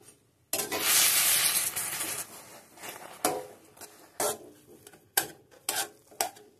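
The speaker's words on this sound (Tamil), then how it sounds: "பால் சேர்த்து நல்லா குழையிற அளவுக்கு கிண்டி விட்டுறலாம்." Roasted bread and milk are stirred in a pan: a burst of wet scraping and sizzling opens, followed by a series of separate utensil scrapes and clinks against the pan, close-up and with no talking.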